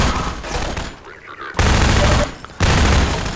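Bursts of heavy gunfire from a Half-Life 2 Episode 2 custom single-player map, loud dense volleys that cut off abruptly into brief quiet gaps, then resume, with no talking over them.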